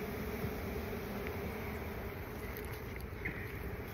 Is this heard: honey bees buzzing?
yes